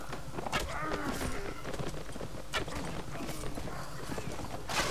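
Horses gallop in a Mount&Blade: Warband battle, a steady drumming of hooves with clattering and combat noise layered over it. A voice talks over the action.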